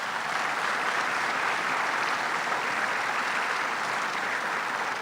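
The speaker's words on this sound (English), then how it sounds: "Let's give him another round of applause." Steady, even applause from an outdoor crowd at an airport completion ceremony, a dense wash of clapping at moderate distance that holds constant throughout.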